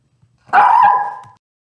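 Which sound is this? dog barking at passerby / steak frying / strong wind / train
dog barking at passerby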